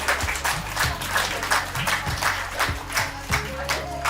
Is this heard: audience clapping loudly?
yes